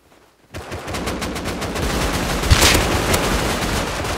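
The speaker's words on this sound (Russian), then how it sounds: "Уже калаш стреляет." Sustained bursts of AK rifle fire in the survival game Rust start abruptly after a brief quiet moment, a loud rapid stream of shots with a sharper crack near the middle, and no voices over it.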